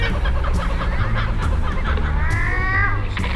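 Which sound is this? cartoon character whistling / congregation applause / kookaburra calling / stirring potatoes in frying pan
kookaburra calling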